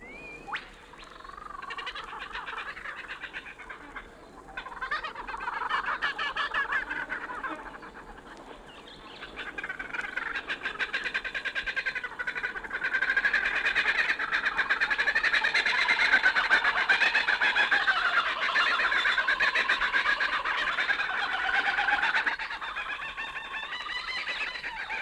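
Australian kookaburras in the bush, a long rising and falling chorus of raucous cackling laughter mixed with other bush birds, swelling louder through the middle before easing off.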